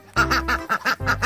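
A duck quacks in a quick run of about six loud, nasal calls close by, with short gaps between them and no voices over it.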